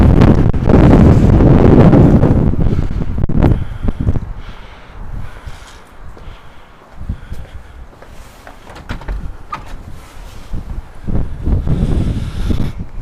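Strong gusts of wind buffet the microphone outdoors in a hillside residential area of Tongyeong, loud at first, easing to a lower rush, then surging again at the end.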